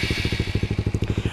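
Honda Grom motorcycle engine with an aftermarket Brox exhaust, running with a fast, regular thumping pulse at close range, loud and steady for a moment with a brief click partway through.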